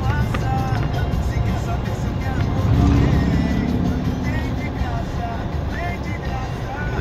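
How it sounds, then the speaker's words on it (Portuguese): A car rolls downhill on Santo Antônio hill with a steady engine and road rumble, a brief engine swell near the middle, and people talking over it. "Descer, vamos continuar descendo."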